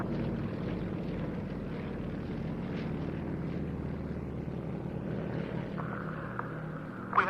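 A Yak 18T and Yak 52s flying a display at an airshow at Duxford give off a steady, moderately distant propeller drone that holds throughout.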